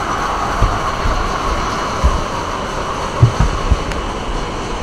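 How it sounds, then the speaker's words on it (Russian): Moscow tram on route 2 rolling along rails, a steady low rumble of wheels and car body with a few soft thumps from the track joints, continuous and fairly close, with no talking. "Трамвай следует по маршруту 2 до конечной остановки метро «Городок»."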